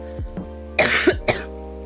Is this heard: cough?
yes